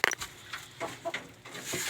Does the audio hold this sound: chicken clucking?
yes